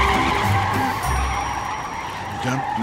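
A car drives fast with tires skidding and squealing, producing a loud, continuous roar of engine and rubber scraping across the pavement, with no break in the noise.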